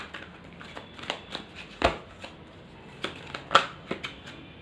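Tarot cards are drawn from a deck by hand, close by: soft papery slides broken by several sharp card snaps and clicks, two of them louder, with no talking.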